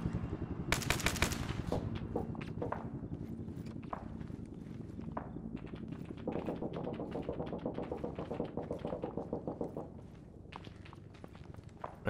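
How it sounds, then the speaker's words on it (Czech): Rapid bursts of automatic gunfire and single shots crackle through an ArmA 3 Liberation shootout, with dense rattling volleys near the start and steady rhythmic firing and footsteps continuing at moderate distance. "Jaký přestřelky tady."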